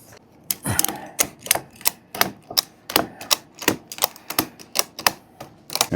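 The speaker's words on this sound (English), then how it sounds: "Grab your last strap, pull that slack out," A ratchet strap is cranked tight around a wooden glue-up, giving a rapid series of about a dozen sharp, close mechanical clicks in a steady rhythm with short gaps between them.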